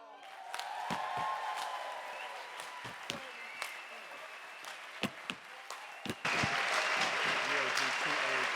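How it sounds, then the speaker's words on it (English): A crowd at a morning plenary session applauds a step dance group, steady dense clapping with scattered whoops that swells louder near the end. "Let's give one more round of applause for Step Africa."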